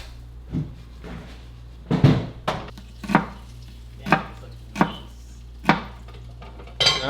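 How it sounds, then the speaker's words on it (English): A knife chops an onion on a cutting board for a plant-based breakfast sandwich, giving about eight sharp, evenly spaced thuds, close and clear. "so we chopped the onion"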